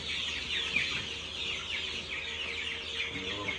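Chickens cluck and chirp in a low, constant chatter from a group of birds gathered close together, with no voices over the flock.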